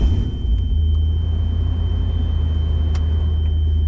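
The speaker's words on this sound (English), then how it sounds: "It does have some exhaust leaks, so it makes it sound like an old pickup truck" A Land Cruiser 80 Series with an LS swap, its exhaust leaks giving a rough, old-pickup-truck tone, rumbles steadily and loudly at close range throughout, a continuous low drone with no talking.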